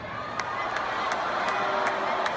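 A large audience at a Kanye West appearance roars in a dense wash of cheering and shouting, with faint claps scattered through the steady crowd noise.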